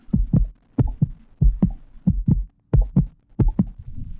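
A video game intense heartbeat sound effect: rapid, heavy pulses in quick double thumps, deep and insistent, repeating without pause.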